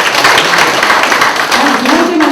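Audience applause for poet Na Tae-ju at a commemorative ceremony for a township history book, a dense, steady wash of clapping from a crowd that holds evenly for the whole short stretch.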